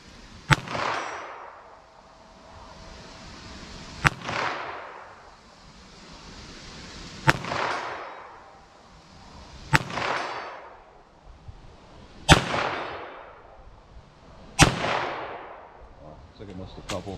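Six sharp .22 WMR gunshots from Federal Punch rounds ring out at irregular intervals, each a loud crack followed by a ringing decay, with no talking in between.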